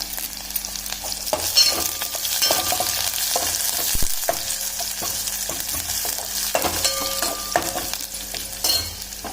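Garlic, green chili, mustard seeds and curry leaves crackle and sizzle in hot oil for a curd chutney tempering, with close stirring scrapes and a few sharp pops over a steady frying hiss.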